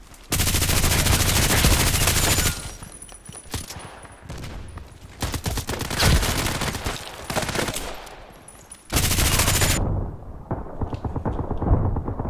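Rapid automatic gunfire in the online shooter Contract Wars, loud sustained bursts broken by short pauses, with dense overlapping shots and no talking.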